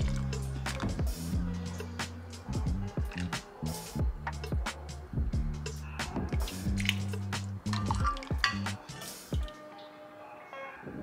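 A homemade tea drink being scooped and poured into a jumbo mug, wet liquid slurps and squishy pours with soft clinks, close and moderately quiet, ending abruptly.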